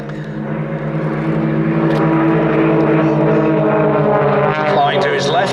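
An Extra 300 aerobatic plane flies a display at Little Gransden Airshow, its propeller engine a loud continuous droning hum that rises and shifts in pitch.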